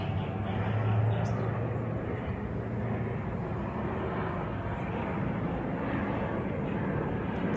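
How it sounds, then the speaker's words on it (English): A loud, sustained roar of two jet airplanes passing overhead near an airport, droning steadily without letup, with a brief bird chirp near the start. "It's 2 airplanes."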